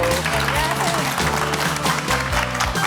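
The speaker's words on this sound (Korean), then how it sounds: "큰 박수로 환영해 볼까요?" A studio audience on a Korean television talk show applauds to welcome a guest: a steady, loud wash of clapping over a music bed, with voices speaking over it.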